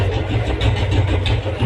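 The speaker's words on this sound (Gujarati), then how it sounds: "બુલેટનું સાઉન્ડ જો ગાઈસ," A Royal Enfield Bullet motorcycle fitted with an aftermarket pipe idles close by with a deep, rumbling exhaust, its low thumping beat steady and even for a short stretch.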